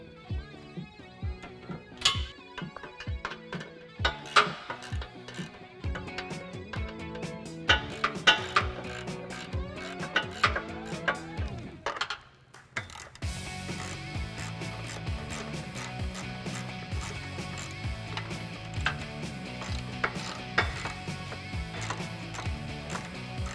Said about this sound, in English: we can take a 13mm socket and tighten them all down.